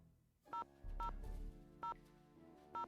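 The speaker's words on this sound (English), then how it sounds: "Let's call Bess" Telephone keypad dialing tones in the Nancy Drew video game The Haunted Carousel: four crisp, evenly spaced beeps ring out over a low background hum, with one longer buzzing tone between the first two.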